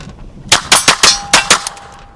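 Roughly seven rapid, sharp gunshots from a cheap Phoenix Arms .22 LR pistol, fired in quick succession at close range, each crack loud with a short ringing tail.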